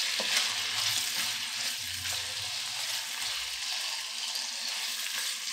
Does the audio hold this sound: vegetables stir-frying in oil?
yes